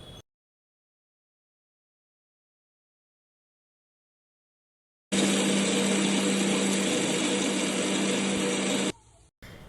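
A kitchen mixer grinder blends horse gram chutney with salt, running in one loud continuous buzzing whir for about four seconds after a silent stretch, then stopping abruptly.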